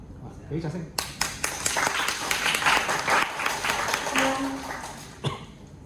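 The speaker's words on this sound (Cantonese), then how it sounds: "俾掌聲" A crowd breaks into sharp, scattered-then-full clapping for a singing contestant at a talent competition, the applause swelling and tapering over several seconds, with a brief voice and a cough heard over it.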